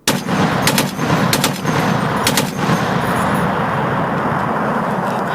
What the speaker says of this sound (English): It's a machine gun! Machine gun!